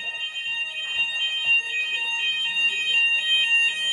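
A Hochiki ESP addressable fire alarm sounds during a weekly test: a loud, steady, high electronic tone that pulses rapidly and evenly, continuous and unbroken, with no talking over it.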